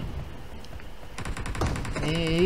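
Shotgun fire in the battle-royale game PUBG during a team deathmatch, a quick rattle of gunshots building in the second half, with a voice talking over it.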